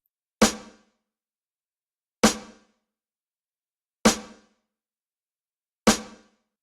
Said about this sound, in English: Okay, his next sound is a snare, and it sounds like this.